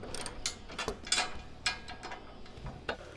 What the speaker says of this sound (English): You want to go through and tighten down each of your bolts